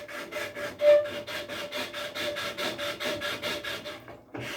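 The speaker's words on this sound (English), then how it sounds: "And I think this is 100 grit sandpaper." Rhythmic back-and-forth rasp of 100 grit sandpaper on wood while shaping a rocking chair part, steady strokes at close range that stop near the end.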